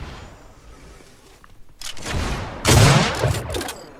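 Sniper shots in a video game duel: faint ambience leads into two loud blasts, the second heavier and followed by a rolling echo.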